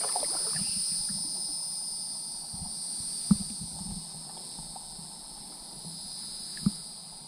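Cicadas calling by the water beneath an overhanging tree, forming a steady high-pitched drone that holds throughout, with a few faint knocks and rustles underneath.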